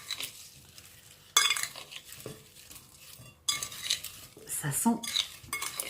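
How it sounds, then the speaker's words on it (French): Spoon scraping and clinking against a dish as roasted vegetables are tossed with olive oil, in uneven bursts of stirring with quiet gaps, and a voice speaking briefly. "3 belles cuillères d'huile d'olive. Et je vais mélanger tout ça maintenant."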